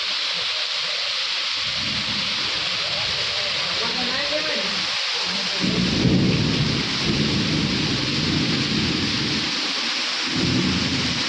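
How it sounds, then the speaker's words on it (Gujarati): Heavy rain pours steadily with rumbling thunder swelling in partway through, a dense continuous wash of sound outdoors. "ભાઈ તો ફાઇનલી વરસાદ વરસી ગયો."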